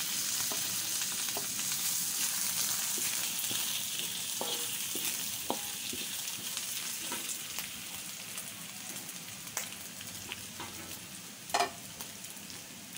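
Curry leaves spit and crackle in hot oil in a wok while being stirred for Kam Heong crabs, a steady dense sizzle with occasional sharp pops and spatula scrapes, fairly close and with no voices.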